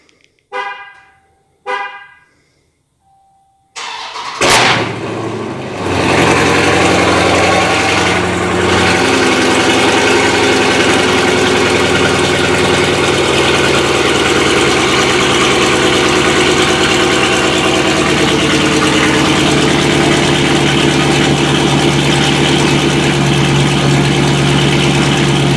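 Two short car horn honks, then a 392 Hemi V8 in a Dodge Charger Daytona with catless mid pipes cranks and roars to life, settling into a loud, steady idle that continues for a long stretch.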